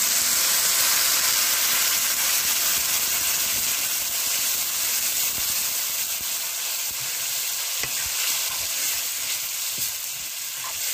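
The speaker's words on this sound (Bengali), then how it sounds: "আমি এখন জল দিয়ে দিচ্ছি" Water poured into a hot pan of dumur (fig) curry sets off a loud, continuous sizzle with steady hissing steam. It stays close and fairly even for about ten seconds, with no voices.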